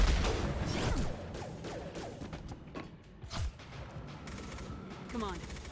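Gunfire and bursts of shooting in the first-person shooter game Legendary, rattling and cracking across a busy, loud battle mix with swooshes and mechanical clatter, steady throughout with no talk over it.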